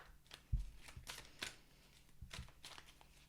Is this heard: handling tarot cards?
yes